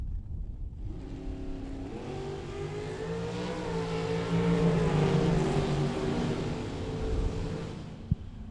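Drag racing engines from a 1971 Nova and a dragster roar at Las Vegas Motor Speedway: a loud, sustained mechanical howl that builds and rises in pitch as the cars accelerate, ending with a sharp knock.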